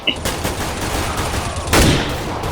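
Rapid gunfire in Counter-Strike: Global Offensive, a dense fusillade of shots with a sharp louder burst near the end, continuous and close without talk.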